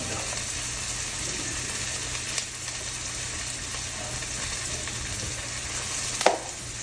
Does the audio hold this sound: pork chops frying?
yes